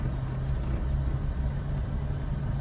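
A car's engine hums steadily at low pitch inside the cabin during a driving lesson, a constant rumble with faint road noise and no clear rise in revs.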